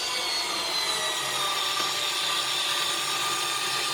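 A Wiha 4V electric screwdriver drives a small screw, giving a continuous whirring, rasping buzz that holds steady for a few seconds, close and fairly loud, with no voices.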